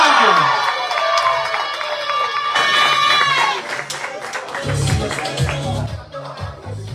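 A crowd at a live event cheers and applauds loudly and steadily, with shouts and whoops mixed into a dense, continuous roar that eases slightly toward the end.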